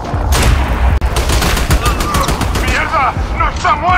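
Rapid machine gun bursts rattle loudly in the Army of Two video game, dense rapid-fire cracks overlapping with shouted voices and impacts throughout.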